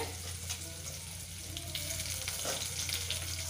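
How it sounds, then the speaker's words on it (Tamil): Steady sizzling of onions sautéing in hot oil, a constant crackling hiss with occasional stirring scrapes, close by. "இப்போ வந்து இந்த வெங்காயத்தை நம்ம வதக்கிட்டு இருக்கோம்"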